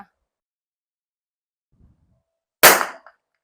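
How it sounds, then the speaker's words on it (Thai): Single sharp rifle shot at a steel target plate 150 metres downrange: one loud, close crack after near silence, with a brief fading tail and a faint thump before it. "และนี่ก็คือ การยิงนะคะ เปลี่ยนระยะในระยะต่างๆนะคะ ตั้งแต่50เมตร100 เมตร และ 150 เมตรนะคะ"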